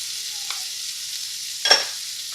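Onions, peppers and mushrooms frying in a pan with garlic, a steady high sizzle with one short louder crackle burst partway through, close and alone.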